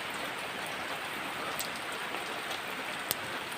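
Heavy rain pours down steadily, a dense, even hiss of drops striking surfaces close by, with a few sharper drip impacts and no voices.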